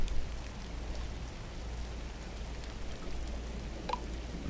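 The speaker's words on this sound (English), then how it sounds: "And blue rain." Rain falling in the video game GRIS, a gentle, continuous wash of droplets with occasional brighter drips and a low steady rumble underneath, moderately quiet and without speech.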